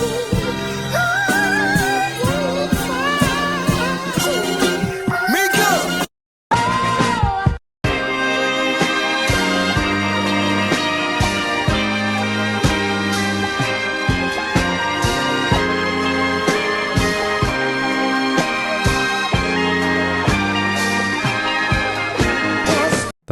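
Chopped string samples from a remake of a song in FL Studio play in a busy, rhythmic loop with beats underneath, pausing briefly twice before continuing steadily to the end.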